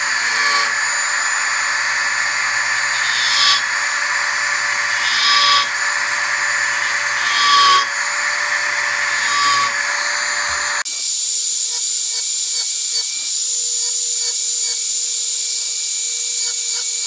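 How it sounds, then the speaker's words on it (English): A Dremel rotary tool tapers carved fur on a bear skull plaque hanger. It makes a steady, close, high whine with slight surges as it presses into the material, then shifts to a higher, thinner pitch partway through. No one talks. "So I'm just going to be using this Dremel again."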